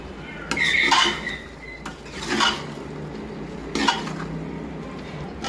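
Cauliflower goes into a pan of spiced masala made with whole dried chillies, with a few loud metallic scrapes and clanks of a spoon against the pan over a low, steady cooking hiss.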